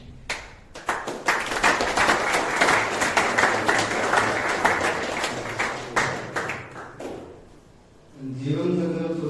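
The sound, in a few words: audience clapping along with a bhajan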